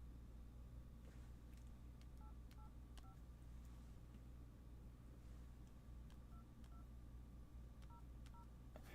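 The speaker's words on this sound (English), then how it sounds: "Let's see if I know how to make a phone call on this thing" A sequence of phone keypad touch tones dialing a number, the beeps coming in small clusters with pauses between them over a constant low room hum.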